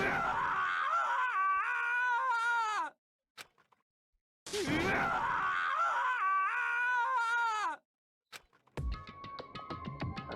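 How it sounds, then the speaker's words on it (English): A character in the video game Danganronpa screams in grief, two long anguished wailing bursts separated by a pause, loud and close, followed by scattered game sounds. "As Taka's sad screams invaded our skulls"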